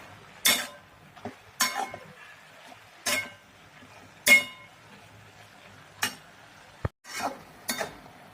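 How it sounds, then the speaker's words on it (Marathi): Red amaranth leaves are stirred in a metal pan, with a spoon clinking and scraping against it in about eight separate sharp strokes spaced roughly a second apart. The strokes are close and fairly quiet, with a faint background hum. "परत भाजी चांगली हलवून घेऊया"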